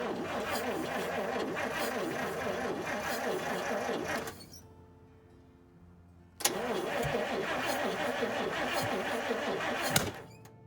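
A 1956 GMC 1-ton truck engine cranks and fires for the first time, running loud and rough for about four seconds. It dies briefly, then restarts and keeps running at a steady roar until a sharp knock near the end.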